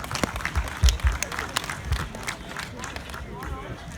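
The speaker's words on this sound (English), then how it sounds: "Everybody give a round of applause for Jenny Haddam, the Frontier Days ambassador." A crowd claps for the Frontier Days ambassador at an outdoor Win the Bin prize-draw event. The applause is a steady, moderately loud wash of scattered claps mixed with crowd noise and voices.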